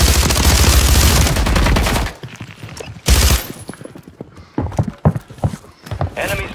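Gunfire in the Call of Duty Warzone video game bursts loudly in dense, rapid volleys at the start and again briefly mid-way, followed by scattered sharper shots and impacts.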